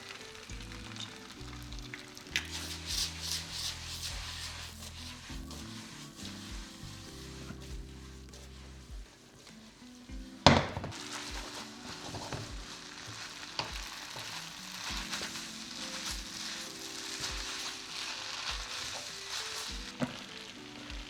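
Onions fry in sesame oil in a pan for fried noodles, hissing in a continuous close sizzle, with occasional stirring scrapes and one sharp clatter midway.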